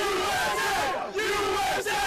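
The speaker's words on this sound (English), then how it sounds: "soccer fans are cheering on Team USA as they gear up for the Women's World Cup final" A crowd of soccer fans loudly chants and cheers for Team USA ahead of the Women's World Cup final, voices rising together in a rhythmic, sustained group chant.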